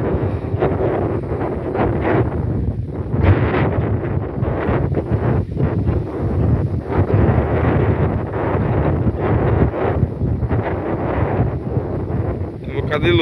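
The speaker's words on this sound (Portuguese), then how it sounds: "Tá hoje, ventania forte." Strong wind buffets the microphone while fishing by the water, a constant loud low roar with gusts throughout, and voices talk underneath.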